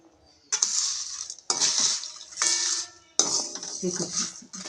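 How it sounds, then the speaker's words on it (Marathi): Whole spices being dry-roasted in a kadhai over a low flame, with a spatula scraping and stirring in four distinct bursts, close and fairly loud, separated by brief pauses. "त्यानंतर आपण कढईमध्ये जो खडा मसाला होता पूर्ण तो मंद आचेवर भाजून घ्यायचा आहे"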